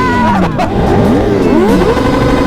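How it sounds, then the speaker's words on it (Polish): Vehicle doing a burnout, engine revving hard with rising and falling pitch sweeps and a steady tyre-screech roar, loud and close throughout. "O Marce gumę pali!"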